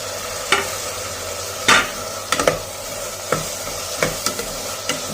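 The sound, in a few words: sautéing chopped tomatoes with onions in pan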